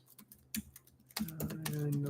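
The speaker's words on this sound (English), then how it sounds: "I'm typing in the chat." Someone types on a computer keyboard nearby with scattered light key clicks, first sparse and hesitant, then a quicker run of taps, all fairly quiet in a calm indoor room.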